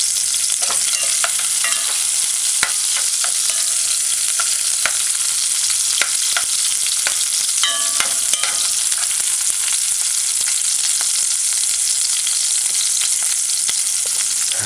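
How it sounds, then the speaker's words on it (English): Onions sautéing in a pan for a salmon tomato stew give a steady, bright sizzle throughout, with scattered crackles and pops and occasional utensil scrapes, heard close and alone with no talking. "Allow it to saute. If you like onions, you don't have to saute it as much. I like my onion saute."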